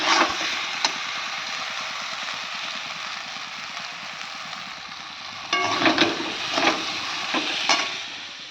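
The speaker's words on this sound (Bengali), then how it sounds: "দেখো মাংসটা আমি কষিয়ে ভালো করে এর মধ্যেই আলু দিয়ে দেবো আলু দিয়ে কষিয়ে নেবো" Mutton with potatoes frying in a pan, a continuous close sizzle with a low hum underneath, then a run of scraping, clattering stirs toward the end.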